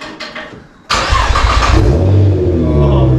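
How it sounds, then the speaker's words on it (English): A 600bhp Nissan R35 GT-R Skyline fires up sharply after a quieter opening, then settles into a loud, close, deep burbling idle with a rumbling low end. "She's got a bloody lovely burble, isn't she, Chrissy?"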